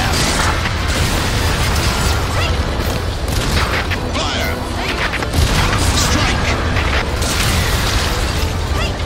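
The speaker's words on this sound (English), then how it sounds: "150 millimeter cannon, fire!" Heavy 150 mm cannon fire and explosions from the video game Earth Defense Force 5 pound on continuously, a loud, dense wall of booms, crashes and mechanical clatter with game speech mixed in.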